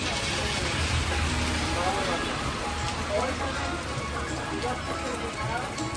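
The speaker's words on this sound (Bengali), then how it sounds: "সাংঘাতিক বৃষ্টি স্টার্ট হয়ে গেছে।" A heavy downpour pours down steadily, heard from the front of a shop where travellers shelter on a trip from Kolkata to Mayapur. The dense roar of rain is constant and close, with faint voices murmuring underneath.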